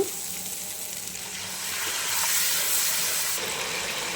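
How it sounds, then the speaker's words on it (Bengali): Water used to rinse the spice bowl is poured into frying spice paste in a pan, giving a steady hissing sizzle that swells louder midway and continues unbroken, with no talk. "এবার আমি একটু মশলা বাটি ধোয়া জল দিয়ে দিব"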